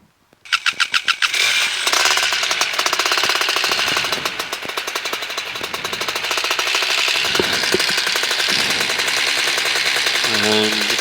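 A light aircraft's propeller engine cranks with a few sharp coughs, catches and settles into a loud, steady running roar as it warms up, close by and dominating the scene.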